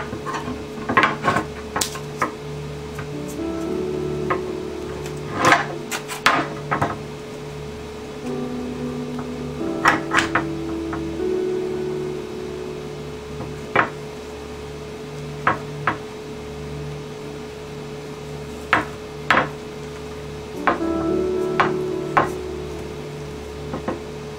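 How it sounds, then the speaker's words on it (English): Pieces of wood being clamped together for an acrylic slingshot build, with sharp knocks and clicks scattered through the clip, some in quick pairs, plus a steady low hum and brief scraping passages, close and fairly loud with no voices. "and another piece of wood, and I can begin clamping"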